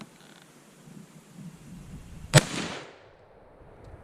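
A single sharp rifle shot from a Winchester Model 94 lever-action in 30-30, fired with handloaded ammunition: a loud crack followed by a short rolling echo, with no talk over it.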